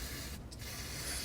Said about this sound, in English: we're going to hit this with some silicone